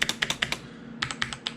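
Fingers type on a modded Womier WK61 mechanical keyboard, close and clear: a quick run of crisp clacky keystrokes, a brief pause, then another burst of presses.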